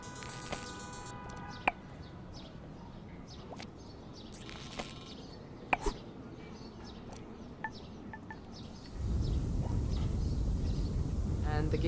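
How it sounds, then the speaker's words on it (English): Birds chirping through a city morning in the game Golf Club Wasteland, short bright calls scattered over a low urban hum, then a steady louder rumble of traffic swells in near the end. "a call and response of cars and birds"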